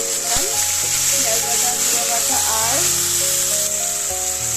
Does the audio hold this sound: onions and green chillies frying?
yes